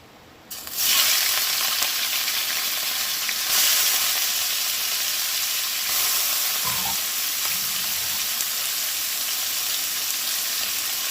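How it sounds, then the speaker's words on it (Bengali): Meat hits a little hot oil in a wok and sizzles loudly and continuously, a close, bright crackling hiss with occasional stirring, and no voices. "এই মাংসটা কিন্তু আমি ভাজতে বসিয়ে দেব"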